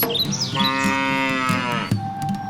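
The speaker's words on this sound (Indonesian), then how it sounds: "Dan mereka membeli seekor sapi." A single long, loud cartoon cow moo with a rich harmonic drone that drops off near the end, followed by a quieter background.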